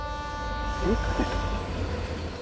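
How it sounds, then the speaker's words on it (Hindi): A train rumbling past with a steady low roar and sustained horn-like tones, voices faintly audible beneath the noise. "ये तो ट्रेन की आवाज है।"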